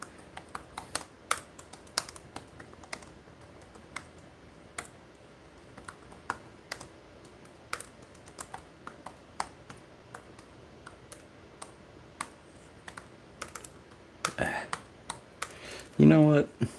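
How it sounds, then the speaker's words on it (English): Rapid keyboard typing clatters along in irregular bursts of clicks, close up, with a few louder knocks near the end. "I could just type in my social media, I guess."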